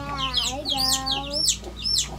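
Baby chickens cluck and cheep close by in a run of short, high, sliding calls over a steady low hum.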